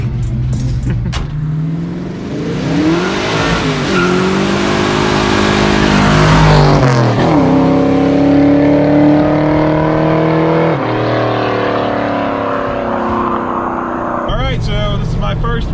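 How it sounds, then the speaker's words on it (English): A newly tuned carbureted Ford Capri Foxbody sleeper drives along, its engine droning and rising through the gears with audible shifts, loud and close from inside the cabin, with people talking over it. "this is my first ride on video in the newly tuned carbureted Capri"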